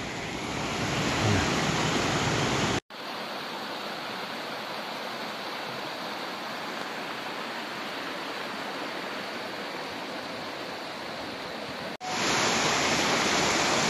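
Floodwater rushes down a village street on 15 August, a steady broad roar of flowing water that stays constant throughout, with a brief dropout and level change near the start and end, and no voices.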